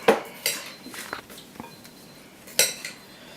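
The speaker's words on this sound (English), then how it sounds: "We're going to stir that up, make sure all the spices and everything are all mixed in." Spices being stirred in a pan, heard as a few sharp metallic clinks and scrapes of a utensil against cookware, with quieter rustles in between, close and fairly faint.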